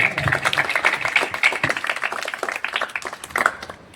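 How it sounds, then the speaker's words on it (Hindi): Loud crowd clapping at a Children's Day charity event at MH Club & Resort in Ranchi, as a chief guest is welcomed: dense, crisp claps close by that thin out and fade toward the end. "एक बार जोरदार तालियां हो जाए।"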